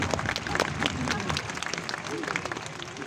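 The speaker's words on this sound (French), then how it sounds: "je pense qu'on peut applaudir très très fort les filles pour cette belle imitation" Crowd applause fills an outdoor sea lion show, a dense steady wash of many hands clapping with some voices and cheers mixed in, sustained throughout.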